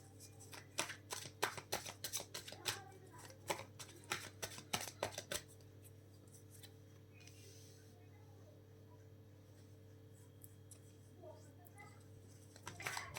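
Tarot cards riffle and snap in a run of quick, crisp shuffles for several seconds, then quieter handling and soft card slides over a steady low hum, with faint speech in places.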